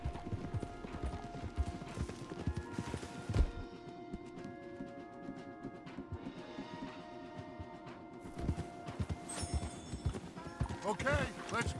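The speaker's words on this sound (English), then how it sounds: "Okay, let's dismount here. We won't get the horses down this path." Horses walking along a wooded trail in Red Dead Redemption 2, hooves clip-clopping steadily and close throughout, with an occasional whinny and background game sounds while people talk over them.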